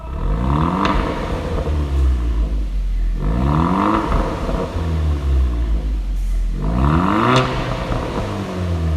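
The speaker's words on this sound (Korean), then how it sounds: "스오 배기 소리에 팝콘까지 그냥 아주 엄청납니다" Three loud revs from a Kia K3 GT's tuned exhaust with its valve opened, each climbing sharply then falling back, with a rough crackle and rumble in between.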